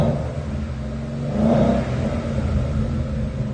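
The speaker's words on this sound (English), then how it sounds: "Go ahead, rev it up." A 2017 Ford Mustang GT convertible with a 5.0 V8 and Flowmaster Super 10 dual exhaust revs: a deep, steady rumble swells briefly in the middle, then settles back to a throaty idle.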